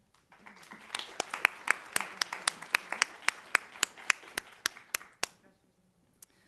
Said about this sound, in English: Round of applause for 1 through 3.